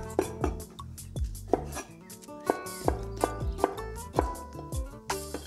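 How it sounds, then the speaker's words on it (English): A knife mincing garlic on a cutting board for a shrimp stir fry: about a dozen crisp, close chops in an uneven rhythm, each a sharp knock against the board, with no talking. "We'll smash 2 cloves of garlic. Then peel and mince them."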